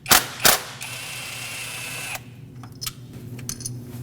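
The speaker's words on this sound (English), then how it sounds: "Use a 10mm socket and remove the bolt that holds it down." A 10mm socket ratchet loosening the ignition coil hold-down bolt on a 2005-2021 Nissan Frontier with the 2.5L four-cylinder: two sharp clicks, then a steady whirring ratchet run, then a few lighter clicks and taps, close up.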